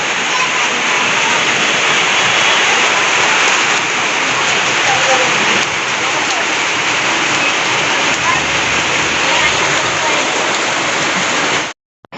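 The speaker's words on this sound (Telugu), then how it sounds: "ఆ వర్షం స్టార్ట్ అయింది" Heavy rain pours steadily onto surfaces during a summer stay in Korutla, a dense, loud, continuous hiss lasting about twelve seconds before cutting off abruptly.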